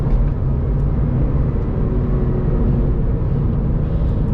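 A Porsche 911 of the 996 generation is driven on a country road, its engine producing a steady, loud low rumble with road noise heard from inside the car, with no talking.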